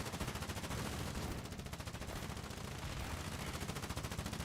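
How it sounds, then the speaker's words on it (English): Rapid machine gun fire in the war game Foxhole, a steady stream of evenly spaced shots running throughout at close range, loud and dense with no talking. "Has that guy hit me with his machine gun yet?"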